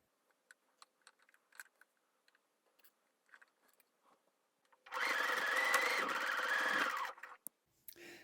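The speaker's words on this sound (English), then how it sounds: "So I finished sewing the dress now" A sewing machine stitches a dress made from a bedsheet, running in one loud steady burst of about two seconds, framed by faint scattered clicks and handling noises before and after.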